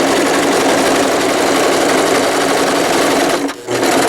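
A sewing machine runs steadily while stitching baby longies, a loud continuous whir that cuts out briefly near the end before starting up again.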